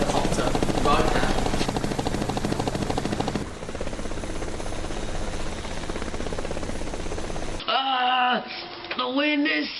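A loud helicopter roars continuously, with a voice speaking over it before the rotor noise drops away near the end.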